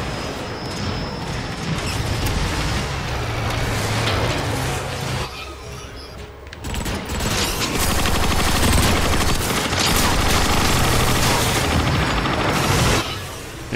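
Dense, sustained video-game gunfire from Transformers: Fall of Cybertron, a loud barrage of rapid shots and booms with a brief lull near the middle before the firing resumes even heavier.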